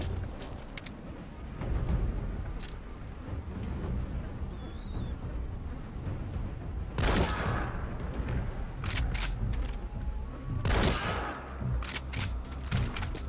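Rapid bursts of gunfire in the video game Metal Gear Solid V crack over a steady rain-like ambient wash, with two loud broadband shots standing out midway and later.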